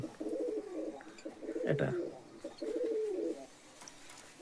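Fancy fantail pigeons kept in a pigeon loft coo in low, rolling phrases, close by and fairly loud, with a short spoken word from a man partway through.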